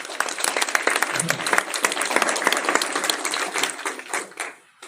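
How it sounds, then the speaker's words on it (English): A live audience at a wealth-building event applauds a teacher, with crisp, close individual claps forming a lively burst that fades out near the end. "Give her a round of applause"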